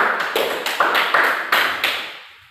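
Brief light applause for a student after her presentation in a classroom, a handful of sharp claps in quick succession that fade out, with no talking over them.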